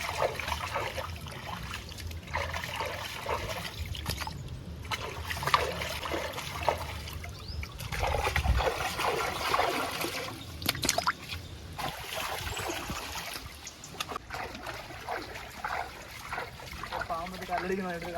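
Pond jilebi fish being rinsed in water in a village setting, with steady splashing and trickling close by throughout, mixed with constant outdoor noise and occasional talk.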